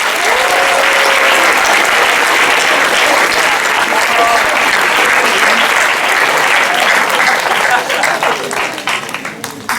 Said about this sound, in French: Je pense que tous ces gens-là méritent des applaudissements,